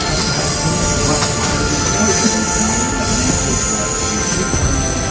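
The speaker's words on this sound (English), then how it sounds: "our train is passing through what is known as the Rock Cut" A scenic railway train rolls through the Rock Cut in Lehigh Gorge, a loud, continuous rumble of wheels on track with a high metallic squeal running steadily throughout, close and unbroken.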